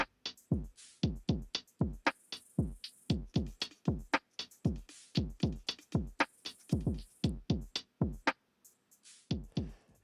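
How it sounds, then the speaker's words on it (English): Lofi drum beat programmed on a MIDI keyboard, heard alone: a steady, looping pattern of punchy kicks and crisp snare hits with short decays, close and even in loudness. "So together, the beat alone sounds like this."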